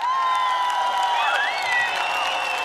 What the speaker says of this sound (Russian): Самые бурные аплодисменты нашим гостям.